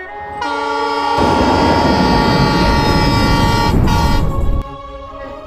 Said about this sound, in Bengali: ওই তো ট্রেন আসতেছে বাবা বাবা।